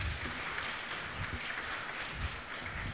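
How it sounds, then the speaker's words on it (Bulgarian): An audience applauds steadily, a dense wash of clapping that fills the room at moderate loudness throughout. "А сега моля за вашите аплодисменти за Томислав Рашков."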